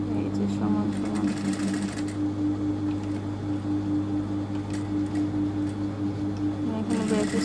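A sewing machine runs steadily and close up, back-stitching while it sews a zipper onto a garment, with a constant motor whir and a fast mechanical hum throughout and a few light clicks.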